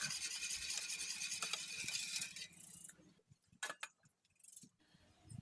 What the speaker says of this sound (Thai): จากนั้นทำการคนส่วนผสมทุกอย่างให้เข้ากันอีกรอบค่ะ